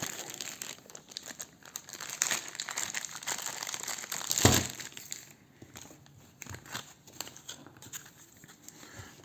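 Board game cards for a Lord of the Rings two-player confrontation game being handled, a steady papery crinkling and rustling with one sharper crackle midway, close and fairly quiet, with no talking.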